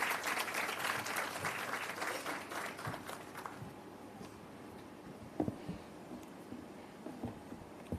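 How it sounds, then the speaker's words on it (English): Audience applause at an awards ceremony for a heritage competition, a dense, steady round of clapping from a crowd that fades after about three seconds into scattered claps and room noise. "Round of applause."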